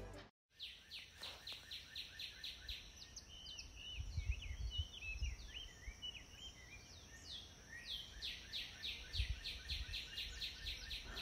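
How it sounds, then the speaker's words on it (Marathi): Small birds chirp and twitter repeatedly in quiet countryside by the Radhanagari dam backwater, faint calls overlapping with soft low rumbles in the background. "पक्ष्यांचा चिवचिवाट"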